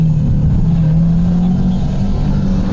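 Junk-build car engine running after the clutch broke, a loud steady low drone with a rising and falling rev tone, close and continuous, no voices.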